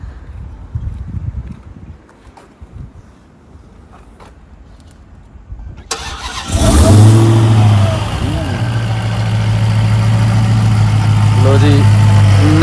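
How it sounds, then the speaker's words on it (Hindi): After a quiet stretch with faint voices, a car engine starts and revs loudly, then settles into a deep, steady roar close by. "इसका ज़रा अब थोड़ा सा इंजन साउंड अब हमें सुना दे"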